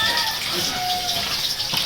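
Water running from a spring in a rural province, a steady gushing splash, close and fairly loud, with voices nearby.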